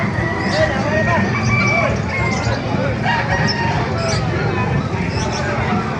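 Several roosters crow repeatedly at a chicken market in Calumpit over a busy background of clucking birds and distant chatter, loud and continuous.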